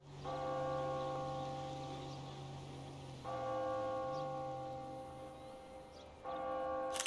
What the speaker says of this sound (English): The church bell chimes every hour, even though the church itself does not have a clock.